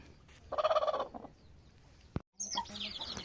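A chicken clucks loudly for about half a second, followed by a few softer calls, a sharp knock, and brief brighter chirps near the end.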